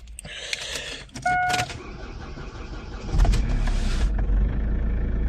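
A Chevrolet Epica 2.0 diesel engine cranks, catches and settles into a steady, rumbling idle close by, with no talk.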